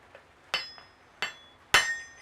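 Blacksmith's hammer strikes a steel anvil in a smithy, three sharp ringing clangs with a fainter tap between, each leaving a bright metallic ring that decays.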